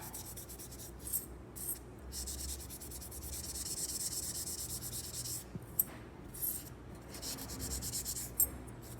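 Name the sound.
Pro Polish pads rubbing to shine metal jewelry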